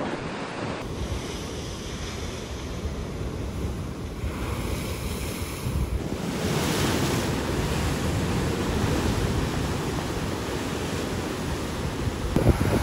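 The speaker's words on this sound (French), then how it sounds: "Les vagues sont immenses." Huge ocean surf near Funchal, Portugal roars steadily with rushing waves and heavy wind buffeting the microphone, building louder midway and staying strong, no voices.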